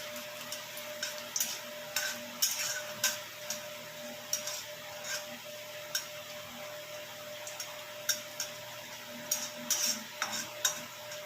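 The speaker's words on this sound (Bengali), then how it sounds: "লঙ্কা দুটো ভেজে তুলে নিই" Two dried red chillies fry in hot oil as a tempering, a soft continuous sizzle broken by repeated light ticks and spatters, with a faint steady hum underneath and no talking.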